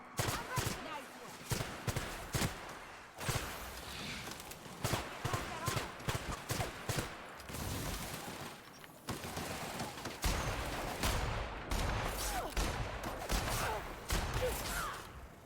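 Rapid pistol shots from the video game The Outer Worlds crack in quick, uneven bursts throughout, faint overall and mixed with other in-game noise.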